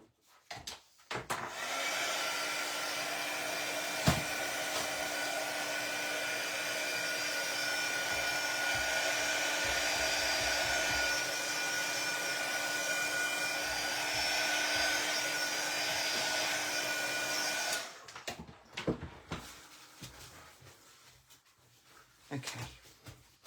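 A heat tool drying stamped craft paper runs as a steady, loud whirring blow for about fifteen seconds, with brief clicks and handling noises before switching off and after.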